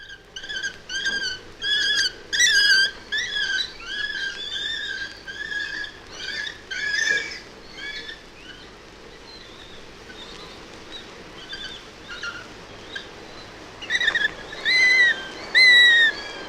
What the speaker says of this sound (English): the young sparrowhawks are still in the nest. They call with a hunger that never seems to be satisfied.